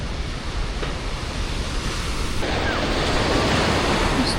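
Steady roaring surf washes in continuously at a crowded beach in Vietnam, broad and loud, with a wind-like hiss and no distinct voices rising above the waves.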